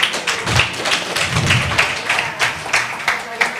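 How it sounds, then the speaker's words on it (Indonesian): Audience clapping hands at a Christian–Muslim debate event, rhythmic group claps with regular thumping beats and a voice over it. "Kita tepuk tangan sekali lagi."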